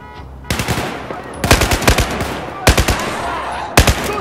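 Rapid machine gun fire in Battlefield 4 rattles in four loud bursts separated by short pauses.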